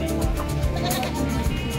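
Goats at Malasiqui Livestock Market, a few short bleats over a busy market background with people talking nearby.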